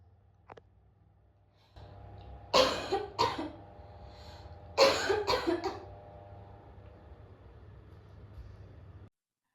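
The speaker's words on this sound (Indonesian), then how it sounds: "kasihan lihat ibu batuknya dari kemarin gak sembuh-sembuh" A mother with a lingering illness coughs in two harsh, close bursts of several coughs each, separated by a short pause, over a low steady hum.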